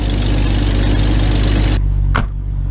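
An old junk engine that had been sitting on a crate idles steadily after a cold start, a loud continuous mechanical drone that cuts off abruptly near the end, leaving a lower hum behind.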